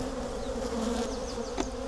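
Honey bees swarming around an open hive during an inspection, a dense continuous buzzing hum, close and steady with no talk.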